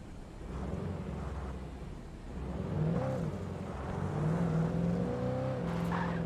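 A car engine in the video game Alan Wake Remastered hums steadily and then rises in pitch as the car accelerates, with a sustained revving tone and no one talking.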